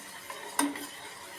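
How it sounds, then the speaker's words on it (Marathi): A spoon stirring sugar in a pan as it melts and browns; a faint brief scrape followed by one sharper metallic clink, otherwise quiet. "जोपर्यंत आपली साखरी साखर वितळत नाही आणि ब्राऊन कलर होत नाही तोपर्यंत ह्याला मिक्स करून घेत राहायचं आहे आपलं चमच्यानी असं"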